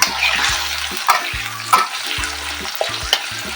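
Potato pieces dusted with salt and turmeric fry in hot oil, a close, crackling sizzle punctuated by several sharp clatters of a spatula turning them, with no one speaking.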